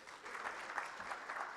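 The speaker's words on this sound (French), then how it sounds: "On l'applaudit, s'il vous plaît." An audience at a startup pitch event applauds a speaker taking the stage, a short burst of steady clapping from a modest crowd, faint and somewhat distant.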